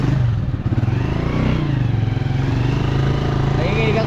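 A motorcycle engine idles and rumbles close by in a steady, throbbing drone with a faint clattering edge, while people talk over it.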